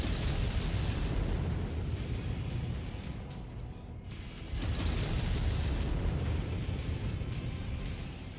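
LRM missile volleys pound an enemy Blackjack mech in MechWarrior 5, a dense, loud, continuous rumble of overlapping explosions that dips briefly midway before surging again.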